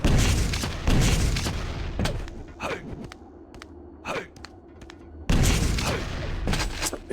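Weapon fire in a Quake Live duel, a cluster of sharp shots and bursts with swooping projectile sounds in between, loud and close, no voices.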